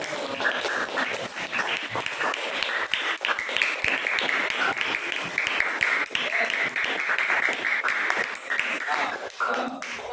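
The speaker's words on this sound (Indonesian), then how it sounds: "Oke, kita kasih tepuk tangan dulu." Classroom clapping from a group of students after a history presentation at a school in Yogyakarta, a steady patter of many hands lasting about ten seconds with some voices mixed in.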